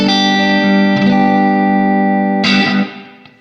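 Electric guitar played through a Spaceman Effects Saturn VI pedal with delay, a sustained processed chord ringing with echoing repeats, a second strum struck midway, then decaying away.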